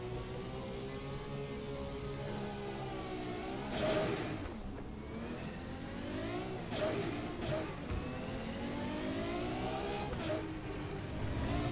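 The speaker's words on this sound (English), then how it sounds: "That has a violent wastegate there." Race car engine with a turbo running 100 percent boost in the Assetto Corsa racing game, a steady droning engine note broken by several sharp, violent wastegate bursts and chatters on lift-off.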